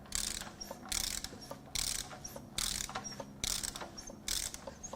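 A 2018 Toyota Camry A25A engine is turned over by hand, and its timing chain system answers with six evenly spaced bursts of ratcheting clicks, quiet and close.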